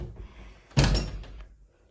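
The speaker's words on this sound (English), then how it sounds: "Let me close the door." A household door shuts with a single solid thunk near the mic, then a short fading rattle, with nothing else in the background.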